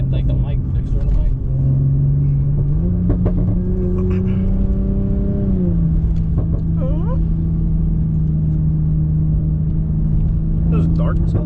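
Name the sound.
Toyota Supra engine revving while driving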